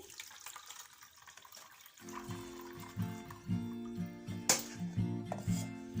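Coconut milk from ground coconut splashes and trickles steadily through a strainer after a quiet start, with a few soft clinks of a utensil, close and fairly loud.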